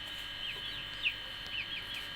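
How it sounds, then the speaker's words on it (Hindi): A fighting rooster clucks softly in a few short, scattered bursts over steady background hum, with no voice. "ये लड़ाई का मुर्गा है।"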